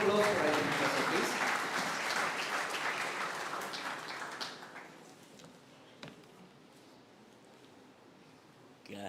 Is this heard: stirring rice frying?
no